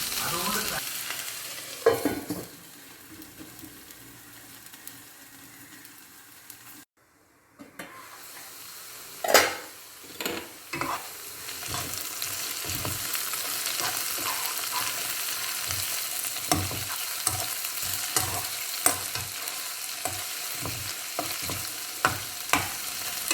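Ivy gourd (kovakka) frying in a pan, a continuous close sizzle broken by a brief lid-covered lull, then a spatula stirring and scraping in scattered clicks and strokes over the hiss, with no voices.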